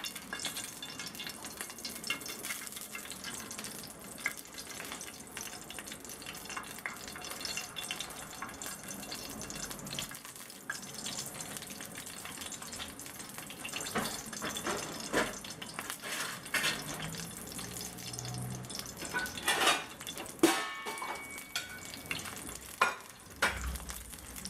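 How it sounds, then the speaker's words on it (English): Two suhari, thin Trinidadian fried flatbreads, frying in hot ghee: a continuous crackling sizzle at moderate level, with sporadic scraping and bubbling bursts toward the end. "So my ghee is nice and hot and I'm gonna add the 2 suharis that I just spread it out."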